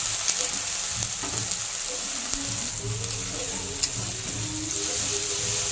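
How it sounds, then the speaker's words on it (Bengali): Tomato paste with ground ginger, green chili and cashew paste sizzles steadily in hot oil in a home kitchen, a constant crackling hiss with occasional soft stirring knocks and no voices. "আদা, কাঁচা লঙ্কা, টমেটো সব ভাজা হয়ে গেছে"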